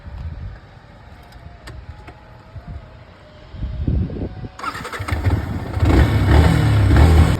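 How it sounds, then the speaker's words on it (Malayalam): A vehicle engine is started using a simple battery. It begins with faint rustling and clicks, then the motor catches about halfway through and runs on as a loud, close, steady mechanical roar that grows slightly toward the end. "സിമ്പിൾ ഒരു ബാറ്ററി വെച്ചിട്ട് ഈ വാഹനം എത്ര പെട്ടെന്നാണ് ഇത് ഓണാക്കി നോക്കിയത്."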